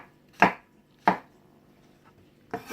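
A knife cuts mushrooms into chunky, rustic slices on a board: three crisp, close chops spaced unevenly, with the last one starting as the sound ends and no talking.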